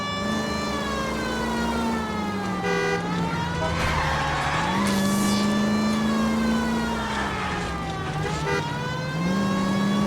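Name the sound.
car chase driving with tire skids in video game L.A. Noire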